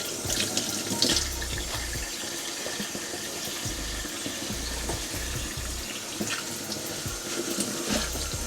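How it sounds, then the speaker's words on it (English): Callaloo leaves rinsed under a running kitchen tap, a steady close rush of water into the sink with small splashy bursts as the leaves are moved through the stream, and no voices. "I just go through them and give it a good rinse."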